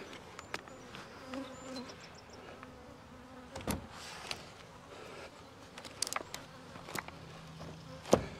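Honey bees buzzing faintly around an open hive during a June honey harvest, a soft continuous hum with occasional clicks and knocks from handling the hive boxes nearby.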